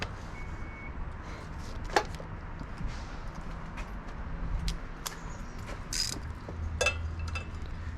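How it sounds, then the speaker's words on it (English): Wrench work on the alternator turnbuckle of a 1971 Chevrolet El Camino, loosening it to spread the bracket and tension the belt: sparse, faint metallic clicks, ticks and small creaks scattered over a low background hum, with no talking. "all I gotta do is tighten this turnbuckle"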